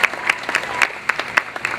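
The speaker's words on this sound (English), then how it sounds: "Give her a big round of applause." Audience at an exotic bird show at a Disney park applauds a young volunteer with a sparse, uneven patter of individual claps, close and fairly loud, spread out in irregular bursts.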